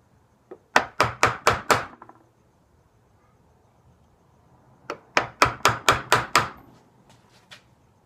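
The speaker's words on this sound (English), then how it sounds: "Chisel out a line on top of that line." A chisel is struck into the wood of a Brown Bess musket butt stock in two quick runs of about five sharp, close knocks each, with a quiet pause between the runs.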